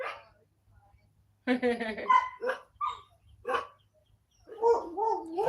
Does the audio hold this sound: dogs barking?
yes